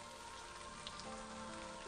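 Steady rain falling at Sajaam, a Buddhist hermitage temple on Odaesan mountain in Korea, an even wash of patter on surfaces with occasional nearby drips, calm and continuous.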